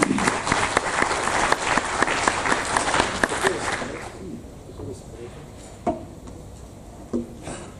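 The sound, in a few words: audience applause at conference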